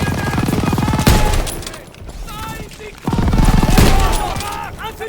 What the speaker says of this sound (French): Voilà, il y a de la mitrailleuse.